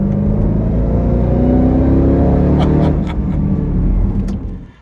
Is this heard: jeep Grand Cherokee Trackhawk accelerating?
yes